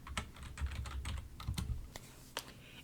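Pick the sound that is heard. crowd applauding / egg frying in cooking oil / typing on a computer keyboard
typing on a computer keyboard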